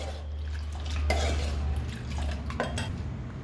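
Batter of ground rice thinned with three ladles of water, stirred with a ladle in a vessel, giving soft scraping and clinking strokes with light liquid sloshing, close and fairly quiet, no talk.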